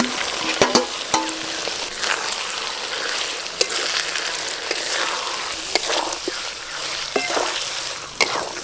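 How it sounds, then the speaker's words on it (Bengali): Spice-marinated chicken frying in a pan over reddened ginger, garlic and onion, sizzling steadily up close with scattered clacks and scrapes as it is moved around. "মশলা মাখানো চিকেন দিয়ে দেবো এবার।"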